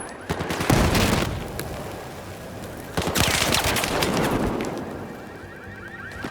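Sustained machine-gun and rifle fire from a 32-versus-32 multiplayer shooter match rattles throughout, with louder close bursts near the start and middle and faint speech beneath.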